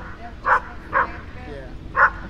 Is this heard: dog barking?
yes